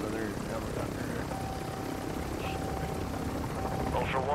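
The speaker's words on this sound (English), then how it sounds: "there's another helicopter here" Helicopter flying nearby in the Call of Duty video game, a steady rotor thrum and engine drone that stays loud and continuous throughout.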